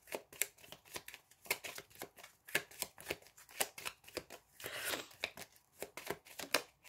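Divination cards are shuffled by hand in a quiet room, a rapid run of soft, crisp riffling flicks repeating close to the microphone with a brief fuller rustle partway through.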